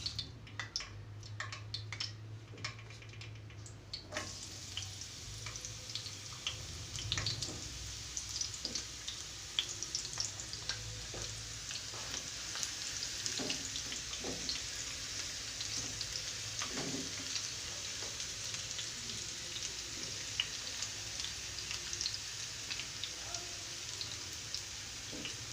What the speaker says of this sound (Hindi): अब ये गरम हो गया। अब मैं इसके अंदर ये प्याज डाल रही हूँ।